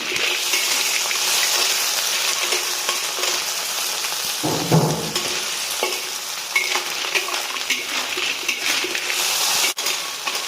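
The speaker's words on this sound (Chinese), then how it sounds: "倒入我们准备好的这个螺丝， 继续翻炒均匀。" River snails tossed and stir-fried in a hot wok for a Liuzhou luosifen soup base, giving a steady close sizzle with scraping stirs throughout, a brief heavier splash near the middle, and no talk.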